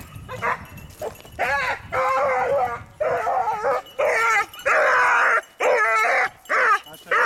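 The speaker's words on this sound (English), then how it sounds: "because that barking is going to kill him" An 8-month-old beagle pup at a beagle club in northern West Virginia, giving loud, rapid, repeated yips and barks close by, some whining in tone, with brief gaps between bursts.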